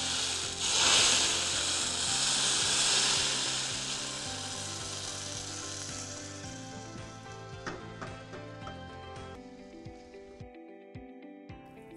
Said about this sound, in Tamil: அதில் கொஞ்சம் முந்திரி பருப்பு தாளிக்கிறோம்.